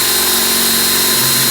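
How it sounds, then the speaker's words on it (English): A drill bores out old aluminum rivets on a Volvo S70 mudflap, a loud, close, steady grinding whir with no pauses. "So we just start drilling the old rivets out"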